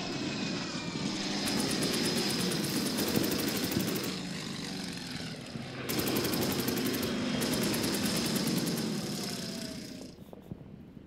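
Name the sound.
Ilyushin Il-2 aircraft flying in WWII video game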